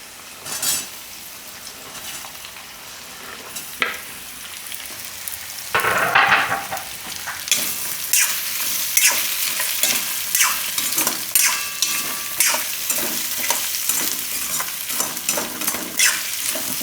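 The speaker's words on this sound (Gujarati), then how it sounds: "આપણે એમાં નાખી દઉં આ કાચા કેળા." Raw green bananas frying in a pan with oil, stirred with a spoon; a steady sizzle that swells louder around six seconds in, with scraping stir strokes throughout and no talk.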